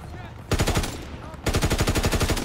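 Call of Duty WW2 gameplay brings two bursts of rapid automatic fire from a WWII-era gun, one short and one longer, loud and close with an even rattling cadence and no talking over them.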